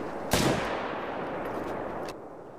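A single rifle shot fired in the hunting video game theHunter: Call of the Wild cracks out loud and sharp, then rolls into a long, reverberant tail over steady ambient background, with a faint later thump.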